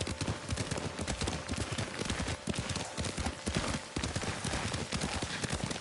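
Horse hooves clip-clopping at a steady riding rhythm in the Ghost of Tsushima video game, close and continuous over a soft ambient bed with no talk.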